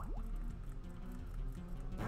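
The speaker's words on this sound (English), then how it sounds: "he's just using water pulse" A Water Pulse attack effect from the Pokemon White video game, a short watery bubbling and dripping burst with a rising chirp at the start, fairly quiet and heard alone.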